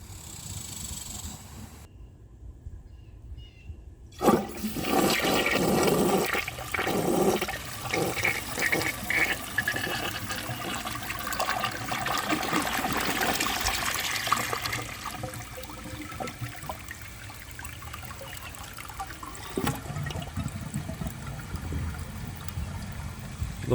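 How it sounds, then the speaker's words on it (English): A 1963 blue American Standard Cadet toilet with its original flush valve flushes with a loud rushing surge of water. The refill trickle runs on for a long time before it fades. "let's give this a flush and see how it does on tests"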